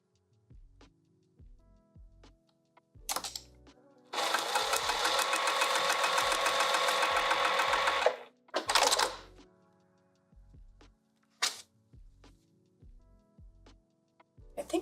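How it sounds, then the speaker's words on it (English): A sewing machine stitching a vinyl sling, a few short bursts and then a steady four-second run of rapid mechanical stitching, close up, with scattered clicks and handling noises between runs. "I cut two, so I'm just gonna sew this down."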